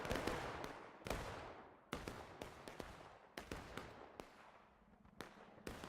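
Rifle volley fire in a War of Rights public match, Civil War-era muskets cracking in irregular bursts, some sharp and near, others echoing from farther off, with overlapping shots and decaying reverberation between them.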